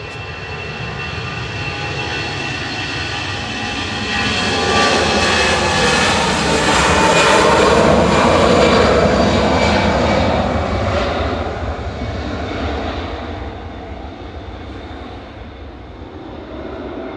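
A 12-year-old EasyJet Airbus A320 Classic bound for Geneva at Manchester Airport roars past, its jet engines swelling to a loud peak midway and then slowly fading as it moves away.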